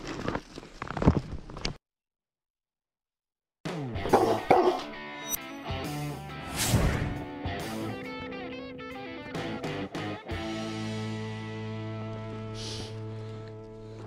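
Unfamiliar dogs bark in several sharp bursts mid-range, with footsteps and movement around them, after a short stretch of silence; a steady tonal hum lingers toward the end.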